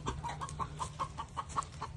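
Backyard hen clucking at a farm coop, a steady run of about ten short, close clucks in an even rhythm with no talk over them.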